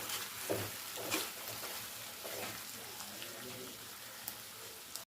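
Chicken pepper fry cooks in a pan over a medium flame, giving a faint, steady sizzle with occasional soft stirring scrapes.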